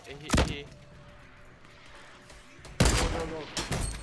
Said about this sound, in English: Sniping in Fortnite can be really frustrating.